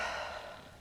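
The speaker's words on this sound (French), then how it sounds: "expire tout par la bouche" A single soft exhale through the mouth during a Vinyasa yoga breathing cue, a breathy airy rush that fades over less than a second.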